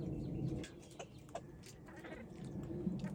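Backyard chickens cluck softly in a coop, with scattered faint calls and scratching sounds over a low background hum, no talking.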